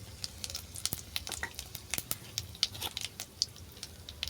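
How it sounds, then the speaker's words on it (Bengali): White cumin seeds crackle and sizzle in hot mustard oil left from frying bori, a quick scatter of sharp pops over a soft steady hiss, close and moderately loud. "এই ভাজা তেলের মধ্যে দিয়ে দিলাম সাদা জিরে"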